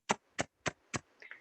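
A beatboxer's mouth imitates a closed hi-hat cymbal: four crisp, short hissing ticks in a steady rhythm followed by a softer fluttering tail, faint and close with no talking.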